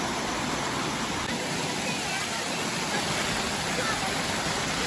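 River water rushing steadily at a natural swimming spot in Darkha, Dhading, a dense broadband roar close by that never lets up.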